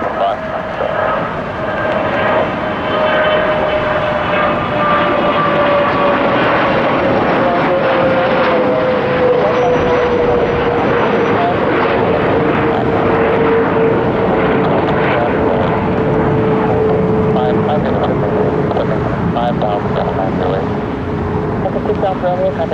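An airliner takes off from a Detroit Metro Airport runway, its engines producing a loud, sustained roar with a steady whine that slowly drops in pitch throughout.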